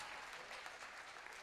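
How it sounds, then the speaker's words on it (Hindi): Brief, faint burst of audience clapping at a Hindi spiritual talk, a soft even patter of many hands heard from a distance. "बजाओ ताली"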